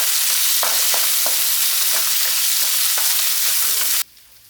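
A sardine chilli curry base sautéing in a pan: loud, steady sizzling broken by repeated scraping stirs, cutting off abruptly near the end.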